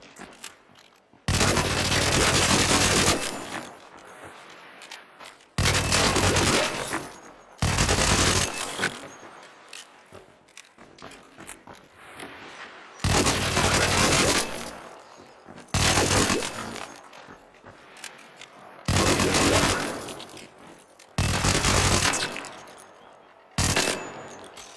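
Rapid-fire gun bursts from the ARC Raiders video game, a high fire-rate weapon firing in roughly eight loud, sustained bursts separated by short quiet gaps, with no talking.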